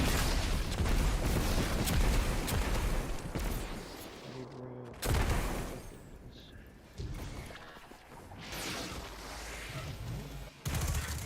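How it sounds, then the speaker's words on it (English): Dense, continuous gunfire and explosive booms from the video game Destiny 2, with bursts and sharp cuts between loud stretches, heard fairly close over a constant noisy backdrop. "Completely lost track of where the gunfire was coming from."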